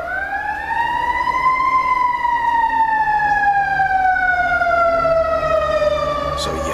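Emergency vehicle siren wails loudly outside, a steady rising and falling tone with strong harmonics holding for several seconds against low background rumble.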